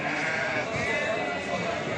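Sheep bleating at a livestock market among pregnant ewes and lambs, several overlapping bleats forming a dense nearby chorus that continues throughout.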